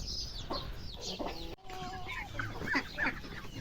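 Hens clucking close by, with high chick peeps scattered throughout, a lively farmyard chorus with no talking.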